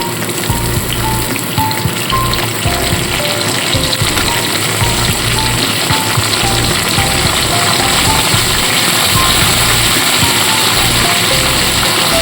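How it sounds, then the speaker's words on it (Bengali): Potatoes and chopped winter vegetables such as cauliflower, onion, spring onion and beans fry in a pan, giving a steady, loud crackling sizzle throughout with small spatters, no voices over it. "আলু হালকা ভাজা ভাজা করে নিয়ে এখানে এক এক করে আমি কেটে রাখা সবজিগুলো দিয়ে দিচ্ছি"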